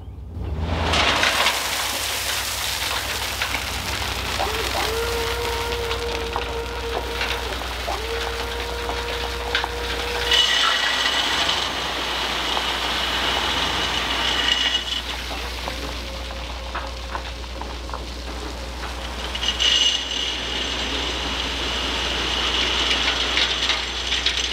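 Three-quarter-inch clean rock slides off the tailgate of a dump trailer in a long, rushing, gravelly roar. A low engine hum runs underneath, and the sound swells in waves as the load pours out nearby.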